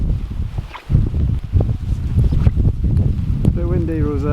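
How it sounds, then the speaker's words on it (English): Wind gusts across a farm on a rough-weather day, buffeting the microphone with steady low rumbling and rustle throughout, with a brief bird-like chirp near the end. "A bit windy, Rosa."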